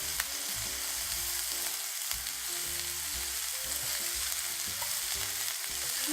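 Shrimp for banh xeo fry in a hot pan with a steady, close sizzle and crackle, stirred now and then, with no talking over it.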